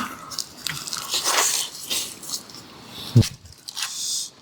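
Pickled seafood is bitten and chewed up close, giving wet squishing and crunching sounds with one sharper crunch partway through, without talk.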